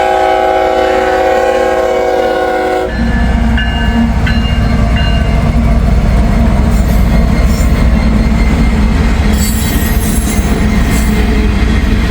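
A freight train hauling ethanol tank cars rolls past loud and close. A horn blast sounds at the start, then heavy wheel rumble, clanking and high metallic squeals from the wheels continue without any talking.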